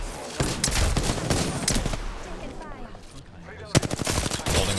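Rapid automatic gunfire in Apex Legends fills the scene with dense, loud bursts of shots, a brief lull, then another sharp volley of closely spaced rounds near the end, with faint voices underneath.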